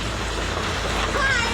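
Hail mixed with rain pelts a house and its steps in Sirmaur, Himachal Pradesh, a steady dense hiss of pattering impacts that stays even and fairly loud throughout, with no voices.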